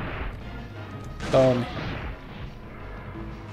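Gunfire in the Dino Crisis 2 video game, a sharp burst near the middle with ringing decay, heard among game sounds while someone talks excitedly over it.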